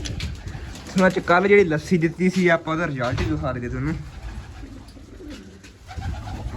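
Someone talks over soft, low coos of pigeons being fed grain and water, which continue faintly once his voice stops.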